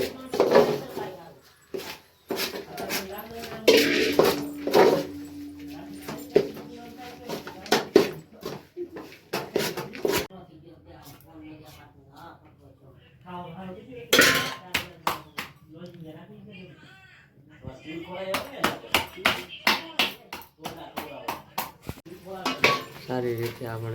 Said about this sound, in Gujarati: માંડવીના દાણા અંદર નાખીશું.